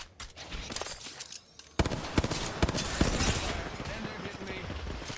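Rapid gunfire in the Apex Legends battle royale shooter, a dense run of sharp shots and bursts that starts sparse, then turns loud and continuous from the second mark onward, with voices talking over the firefight.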